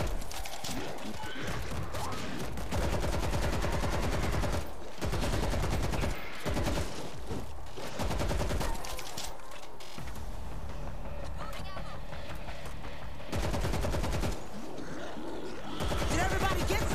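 Rapid automatic gunfire rattles almost nonstop in the World War Z video game, heavy and close, broken by brief pauses, with voices talking over the shooting.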